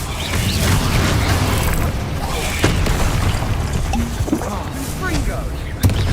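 Heavy booming blasts from the Bombarda spell in the video game Hogwarts Legacy, dense and loud with rumbling impacts and sharp pops layered under spoken spell incantations.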